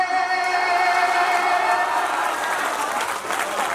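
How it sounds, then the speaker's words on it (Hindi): A large crowd claps steadily and loudly throughout at an Urdu poetry recital in Islampur, West Bengal, with the applause dense and sustained before easing slightly near the end. "ताली आपने गलत जगह बजा दी,"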